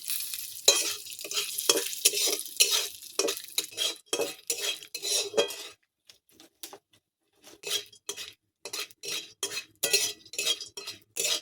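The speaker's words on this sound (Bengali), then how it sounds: "ভালো করে নেড়ে চেড়ে সে ভুজিয়ার মতো করে নিয়েছে। নিচ্ছে বাদামগুলোকে।" Peanuts frying in a pan are stirred with a metal utensil, giving bursts of scraping clinks over a steady sizzle, with a short quieter pause midway before the brisk stirring resumes.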